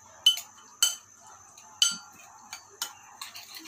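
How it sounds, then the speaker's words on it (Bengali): Egg toast batter with chopped green chili, coriander leaves and salt mixed in a bowl, heard as sharp clinks of a utensil against the bowl, about eight strikes spaced irregularly, close and clear against a quiet background. "এখন সব কিছু একসাথে মিক্সড করে নিচ্ছি।"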